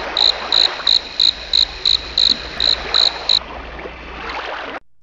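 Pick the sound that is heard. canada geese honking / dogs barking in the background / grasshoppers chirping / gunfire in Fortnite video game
grasshoppers chirping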